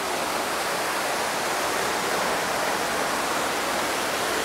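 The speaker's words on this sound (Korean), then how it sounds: "정방폭포라. 과연 천하 제1경이로구나." Dense, unbroken roar of rushing water from Jeongbang Falls on Jeju, a broad steady hiss like a waterfall heard up close, with no voices and no change over time.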